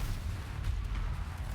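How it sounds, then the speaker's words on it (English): Flame cannons keep firing in a Total War Warhammer 2 battle, a continuous low rumbling roar of fire and booms with no clear breaks and a faint crackle above it. "flame cannons are still shooting all this stuff"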